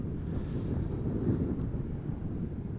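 Steady wind buffeting a microphone outdoors at Amsterdam Schiphol Airport, a continuous low rumbling roar with no other distinct sounds.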